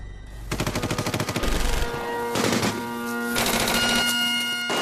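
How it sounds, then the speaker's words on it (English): Rapid bursts of gunfire rattle out close and loud during a wartime raid in Italy, with the sustained tonal music of "Highland Laddie" layered over the shots throughout. "The air echoed with gunfire,"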